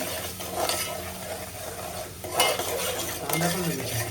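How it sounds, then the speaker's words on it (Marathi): Spoon stirring garlic through melted butter in a pot for a seafood boil, a steady scraping clatter with soft sizzling underneath, close and continuous with brief louder strokes. "मस्त लसूण टाकून झालेलं आहे. आता मिक्स करूया छान."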